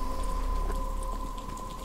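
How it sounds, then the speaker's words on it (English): Steady rain falls in the Batman: Arkham Asylum video game, a constant close patter and hiss laid over a low hum and a sustained tonal drone, with no speech. "Rain."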